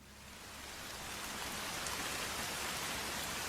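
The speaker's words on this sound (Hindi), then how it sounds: "बरसात ने जैसे ही रफ्तार पकड़ी" Heavy rain pours as a dense, steady hiss that swells in the first second and then holds full and even, with no voices over it, setting a story scene.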